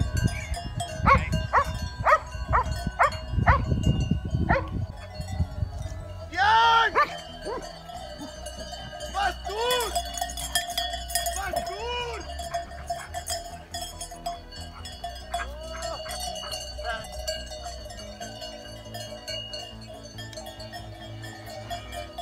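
A herd of cows arriving in the Aosta Valley with cowbells ringing, first close and heavy footfalls and rustling, then many bells clanking and chiming in irregular rhythm at varying distances.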